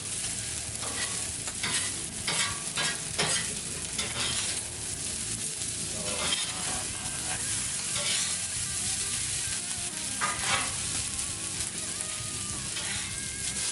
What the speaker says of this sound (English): Keep our peppers and onions moving around here. We got our rice to fry.